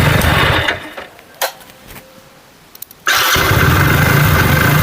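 A Hero Splendor BS6 motorcycle with a faulty starter relay runs loudly, then drops to near quiet with a few clicks and brief bursts before the engine starts and runs on at full, steady volume.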